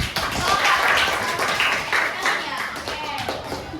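Classroom students clapping for a presenting group during a teaching practice exam, a steady burst of hand claps that rises then gradually thins out, with some voices mixed in.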